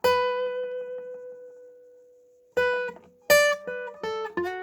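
An electric guitar plays the opening phrase of a song: a long sustained bent note ringing out and fading, then a quick run of sharp, clear picked notes, played alone and close.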